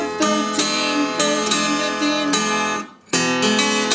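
An acoustic guitar plays a Delta blues lick: bright, full strummed and picked notes in a steady pulse, a brief break near the end, then playing resumes, loud and close, with no voice.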